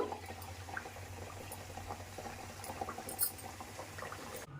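Onion kachoris deep-frying in hot oil, a steady quiet bubbling with faint crackles throughout, close but low in level.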